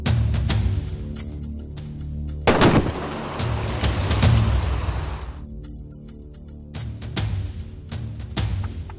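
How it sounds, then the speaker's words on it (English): Repeated explosions from dynamite fishing on a coral reef: several heavy, booming blasts spaced through the clip, loud and rumbling with no voices. "Fish bombing, or dynamite fishing, is used to collect bait for hook and line methods"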